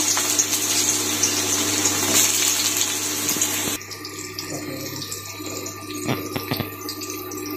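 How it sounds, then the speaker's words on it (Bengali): Large cut potato pieces fry in hot oil in a wok, giving a loud, steady hiss that abruptly settles to a quieter sizzle halfway through, with a few light clicks. "এখন এগুলোকে একটু ভেজে নিব"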